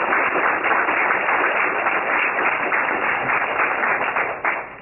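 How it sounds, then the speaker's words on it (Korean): A church congregation gives a sustained round of applause for the evangelism team, steady dense clapping throughout with no talking. "힘찬 박수를 부탁드리겠습니다"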